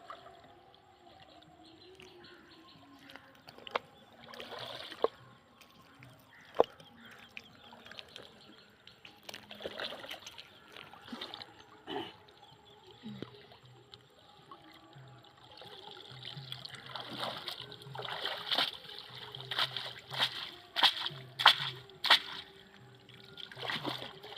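Water splashing and dripping as a fishing net is hauled up out of a pond, faint to moderate irregular sloshes and trickles that build toward the end, with some background voices.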